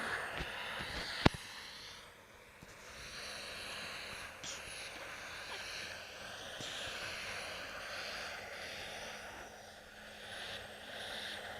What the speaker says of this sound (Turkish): Egzoz mu? Hı hı, arabanın sesi, motor.